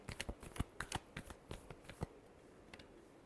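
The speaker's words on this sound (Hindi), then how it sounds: "पार्टनर को लेकर के लास्ट शफल" Tarot cards being shuffled by hand, a quick run of crisp riffling flutters and soft slaps that fades out in the last second, with no talking.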